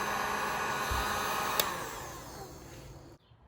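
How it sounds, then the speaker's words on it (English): A heat gun blows a steady stream of hot air while a fuel filter is fitted on an Echo string trimmer, a constant close whoosh that cuts off near the end, with no talking. "I might actually have to get the heat gun for this."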